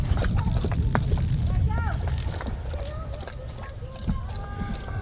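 Water sloshing and splashing close by at an outdoor dive site below mountain peaks, mixed with wind rumble on the microphone and indistinct voices of people nearby.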